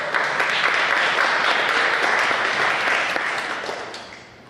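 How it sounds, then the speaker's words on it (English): An audience at a panel discussion during the NBPC 72 convention gives a sustained round of applause, with loud, dense clapping that holds steady and then fades out toward the end. "Give a round of applause."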